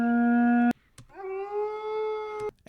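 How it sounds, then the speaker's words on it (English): Two wolf howls as a sound effect: a sustained steady howl cut off abruptly, then after a short gap a second howl that rises into a long held tone, clear and close with no talk. "I have some wolves."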